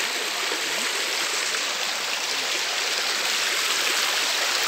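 A river stream flows steadily near a spring source, a constant dense rushing and splashing wash of water, loud and close, with no voices.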